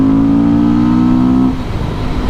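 Beta single-cylinder motorcycle engine revving to about 7,500 RPM. It holds a loud, steady high-pitched whine, then drops off into a rougher, lower rumble. Close by, with no talking.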